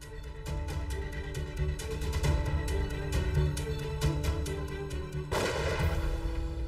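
A gunshot tears into a target of whipped cream and watermelon: one loud, sharp, broadband burst near the end, over steady background music.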